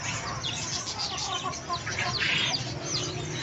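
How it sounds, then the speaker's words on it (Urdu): Roosters and chickens at a Peshawar bird market clucking and calling amid dense chirping of many other birds, a busy, continuous chorus with a louder rooster-like call near the middle, no clear talking. "اور یہ مرغے ہیں"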